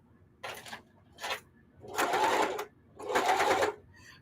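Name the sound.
sewing machine stitching denim hot pads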